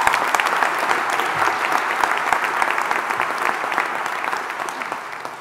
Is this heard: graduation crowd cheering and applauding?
yes